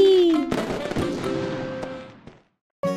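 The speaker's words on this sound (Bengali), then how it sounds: "হ্যাঁ মা, হ্যাপি দিওয়ালির ভালো পটকা।" A cartoon Diwali firecracker bursts with a sharp bang, followed by crackling and a decaying fizzing ring that fades over about two seconds, then silence before another abrupt sound. A tonal whistle precedes the burst.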